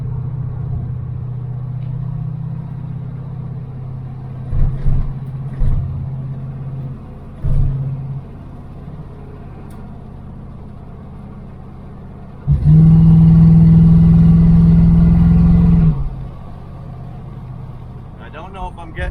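The engine of a 1978 Dodge Aspen R/T idles with a low rumble, then surges into a loud, steady rev for about three seconds before falling back. The car is being taken manually through the gears and may not be getting full throttle, and muffled voices are present.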